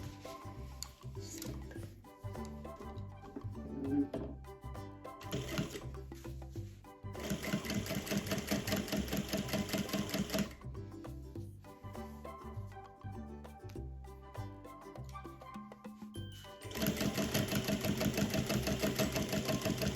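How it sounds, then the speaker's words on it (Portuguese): Sewing machine stitching along the edge of fabric binding on a blanket, running in several fast whirring bursts separated by short pauses, loud and close with no speech. "E a gente vai costurar bem aqui na bordinha da nossa faixinha"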